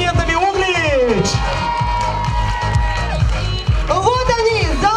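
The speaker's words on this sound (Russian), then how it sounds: "Давайте встретим их громкими аплодисментами, Углич!" Crowd cheering and applauding at a youth day celebration in Uglich, a loud sustained roar of voices and claps, with shouted speech and crowd noise over a steady rhythmic thumping underneath.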